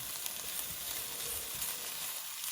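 Garlic steadily sizzling and frying in a pan with seared vegetables for a beef short rib bolognese, a constant close crackling hiss without pause and no voices.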